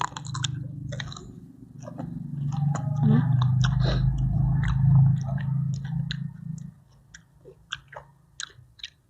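Close, wet chewing and crunching while eating spicy papaya salad with rice noodles, chicken feet and fermented fish sauce. Heavy munching for several seconds gives way to softer, scattered smacks and bites.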